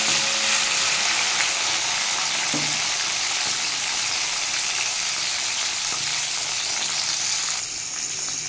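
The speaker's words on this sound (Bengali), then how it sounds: "ভেন্ডিগুলো আমি একটু হালকা করে ভেজে নেবো।" Okra sizzles lightly in oil left over from frying fish, a close, even frying hiss with occasional stirring clinks and scrapes, steady from start to finish with no talk.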